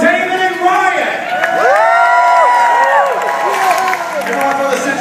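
A live crowd at a Fear Factor-style team event cheers and shouts loudly for the teams, with high children's voices, whoops and some clapping blending into a dense, sustained roar.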